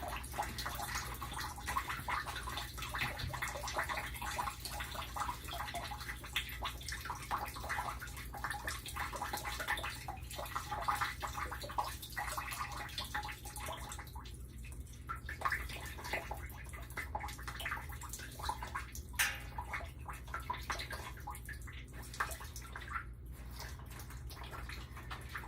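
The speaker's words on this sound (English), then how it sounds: "I'm surprised this is dripping as much as it is." Water dripping and trickling from a leaking DAB E.Sybox Mini 3 water pump, a steady faint wet patter with scattered drops, heard alone with no talking.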